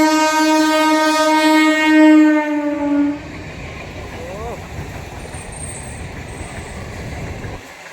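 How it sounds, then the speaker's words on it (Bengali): A train sounds a long loud horn at a railway crossing, held for about three seconds and then cut off, followed by the rumble and rattle of passing cars on the track. "ট্রেন ক্রসিং হলো"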